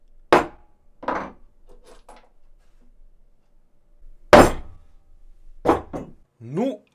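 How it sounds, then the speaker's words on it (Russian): Hammer blows on a center punch marking the middle of an Inconel 718 alloy bar in a workshop, three or four sharp close strikes spaced apart, with a brief voice near the end. "Для начала нужно накернить серединку,"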